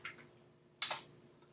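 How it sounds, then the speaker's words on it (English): A couple of soft key clicks, then a sharper double tap of keys on a computer keyboard while typing a directory path, close by and quiet. "sorry, I can't see what I'm typing"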